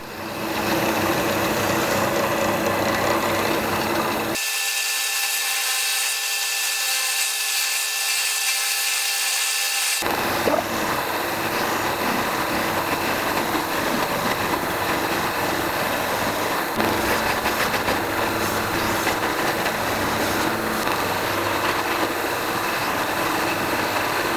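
A steady, loud machine whine of a drill fitted with a milling slide cutting mortises in wood, continuous throughout with a brief shift in tone partway, no voices.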